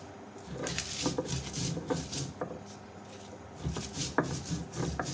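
Chillies are ground on a stone grinding slab with a steady series of scraping, rubbing strokes, close and moderately loud, with irregular knocks and clatters between the passes and no voices.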